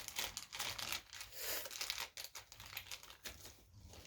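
Scissors slice open a toy package along its side, producing crinkly plastic cutting and tearing noises with irregular bursts, close and fairly loud, with no talking.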